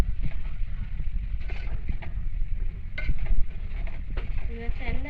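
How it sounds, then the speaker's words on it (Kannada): Dill leaves frying in a pan for a Marathi-style dill curry, a steady soft sizzle with occasional stirring scrapes and clinks, running under the cook's talk. "ಇದನ್ನು ಚೆನ್ನಾಗಿ ಫ್ರೈ ಮಾಡ್ತಾ ಇದ್ದೀನಿ"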